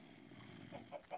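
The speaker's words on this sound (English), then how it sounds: "We have chickens getting out of here." Chickens in the video game Minecraft give a few soft clucks near the end, faint and short over a low background hum.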